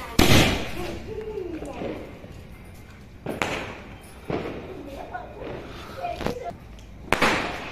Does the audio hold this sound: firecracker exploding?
yes